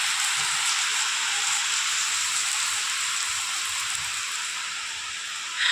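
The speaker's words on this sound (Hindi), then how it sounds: "तो झमाझम बारिश का आनंद आप भी ले लीजिए।" Heavy downpour in Dehradun, a dense continuous hiss of raindrops hitting surfaces, steady and even throughout with no voices.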